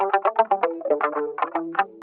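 Muted funk lead guitar run through a guitar rig and chorus plug-in, playing a quick choppy string of short plucked notes with a wah-like, effected tone, close and alone.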